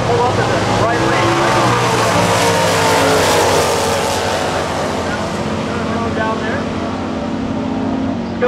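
A Plymouth GTX drag race car at Lebanon Valley Dragway gives a loud, sustained roar that eases slightly toward the end, with a track announcer's voice faintly in the background.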